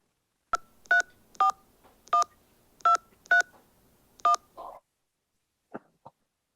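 A telephone keypad dials out to reception, producing seven crisp DTMF tones in a steady rhythm, close up and clear in a quiet room, followed by a few soft clicks.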